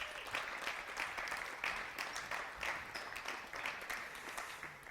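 Sustained audience applause at a mixed team bowling competition, steady and dense throughout, filling the hall without pause.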